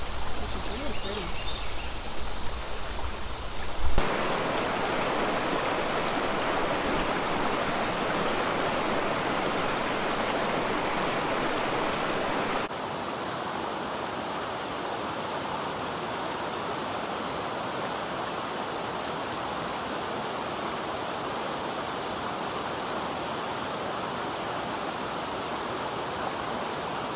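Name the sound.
Difficult Run Creek stream flowing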